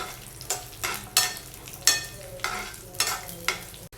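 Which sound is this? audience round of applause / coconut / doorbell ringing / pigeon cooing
coconut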